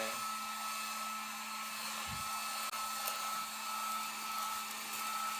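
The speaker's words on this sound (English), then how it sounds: "So I'm going under here with my heat gun." A heat gun on its low heat setting blows a steady, even hiss of hot air for several seconds, with a low hum underneath and one brief faint click partway through.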